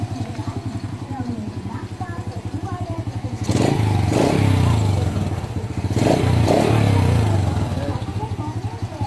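A motorcycle engine running on a converted battery-operated CDI idles close by with a fast, steady putter, then swells in two louder revving bursts before settling back.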